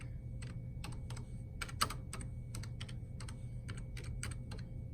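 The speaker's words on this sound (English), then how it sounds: "I'm going to type that in" A word is typed on a computer keyboard in quick, irregular clusters of crisp clicks, close up over a low steady hum, with one slightly sharper keystroke partway through.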